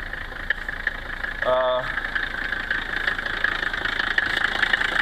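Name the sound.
1977 Mercedes 300D non-turbo diesel engine idling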